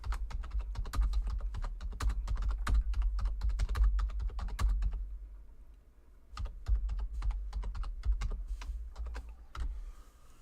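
Rapid keystrokes on a computer keyboard, loud and close, clattering in quick bursts with a brief pause midway before the typing resumes.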